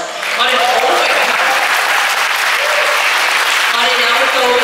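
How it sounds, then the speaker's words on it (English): Steady applause from a sizable audience at a Hong Kong International Film Festival screening, a dense wash of clapping that swells quickly and holds at an even level throughout. "Applause."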